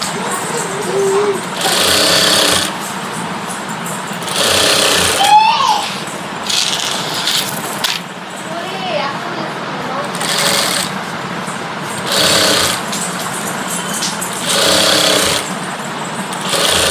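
A sewing machine stitching a heavy maggam work blouse, running in loud steady bursts of a couple of seconds separated by brief pauses, with faint background noise and no clear talk.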